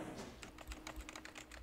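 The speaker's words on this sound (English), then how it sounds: "the tapping on keys" Keys on a computer keyboard tap in a library, a quick uneven run of light clicks at moderate distance over a faint steady hum, with no one speaking.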